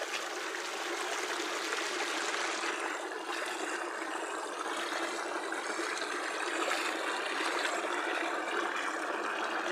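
Naturally clean water flowing in a stream through a village swamp turned plantation, a steady broadband trickling rush that stays even and close throughout with no voices.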